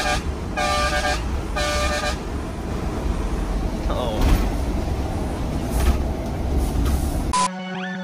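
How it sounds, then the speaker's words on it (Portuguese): A car horn honks in two short blasts, then sounds once more near the end, over steady engine and traffic noise. "Experimentar a buzina"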